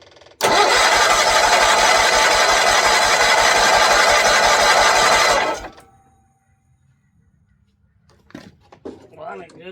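A rusty 1970s John Deere 400 garden tractor engine cranks, fires and runs loudly and steadily for about five seconds, then cuts out abruptly, followed by quiet and a few faint clanks and handling noises.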